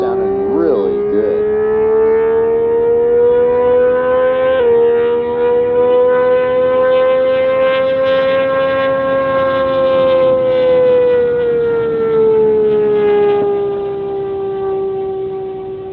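A V12 race car accelerates hard at very high speed on a dirt course, its engine giving a loud, sustained high-pitched wail that climbs and shifts pitch across gear changes, holding strong throughout before easing slightly near the end.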